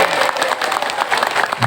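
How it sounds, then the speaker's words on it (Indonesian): Audience applause at an Islamic religious lecture, a steady dense patter of many hands sustained throughout without pause. "Tepuk tangan buat semua."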